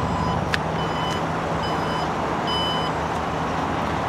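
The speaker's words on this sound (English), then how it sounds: "Gonna beep at you a few times just to tell you to get out of the way." Several short electronic tailgate warning beeps from a 2018 Alfa Romeo Stelvio Ti sound at a steady rhythm over a constant engine hum, fairly close and clear.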